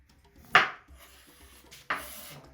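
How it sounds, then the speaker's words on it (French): Two crisp knife strokes slice through the ends of a sweet potato against a cutting board, each a sharp close chop followed by a short scrape, spaced about a second and a half apart in a quiet kitchen. "Vous venez couper seulement les extrémités"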